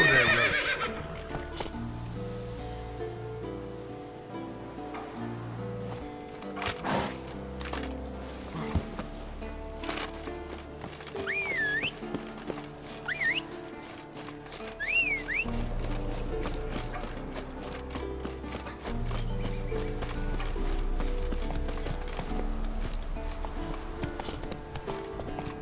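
A horse in The Witcher 3 gives several high whinnies over steady clip-clopping hooves and game ambience, with rhythmic hoofbeats continuing throughout at close range.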